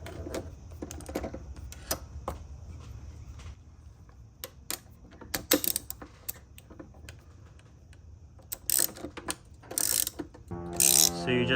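A ratchet loosens a nut on the crank pulley of a 1991-2005 Acura NSX, giving close, quiet bursts of clicking pawl turns in irregular runs, with a few louder knocks near the end and no speech.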